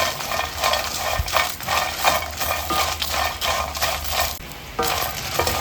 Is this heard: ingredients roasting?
yes